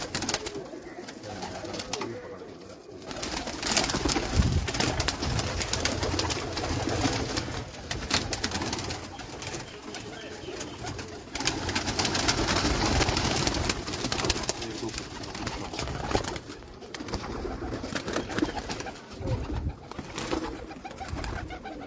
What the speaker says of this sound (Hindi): ज़बरदस्त कबूतर है माशाल्लाह